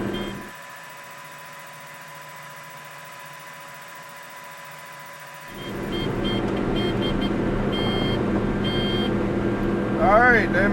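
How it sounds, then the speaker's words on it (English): Steady electronic calibration buzz from cotton harvest equipment driven straight along a road, a constant harmonic drone at first, then joined by a louder rumbling engine and road noise partway through. "we're about to listen to this buzzing for 45 seconds while I drive straight on the road"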